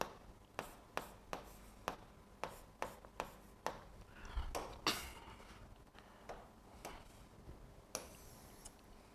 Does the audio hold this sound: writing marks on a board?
yes